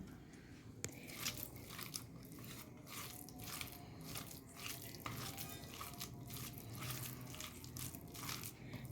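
Garlic, onion and fried pumpkin are mashed together by hand, giving a close, soft rhythmic squelching and crunching that repeats steadily throughout.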